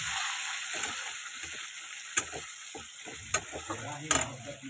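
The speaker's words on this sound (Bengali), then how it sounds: "এটাকে আরেকটু ভালো করে ভাজবো।" Chopped onion and tomato fry in a pan, giving a quiet, steady sizzle broken by a few sharp clinks and scrapes of a spoon stirring against the metal.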